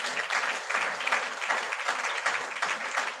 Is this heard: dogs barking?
no